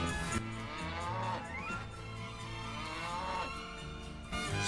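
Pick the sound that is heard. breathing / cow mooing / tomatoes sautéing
cow mooing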